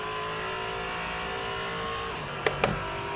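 Race car engine held at full throttle in a racing simulator, a steady high-pitched whine with a tonal pitch that dips slightly, followed by two brief sharp bumps near the end.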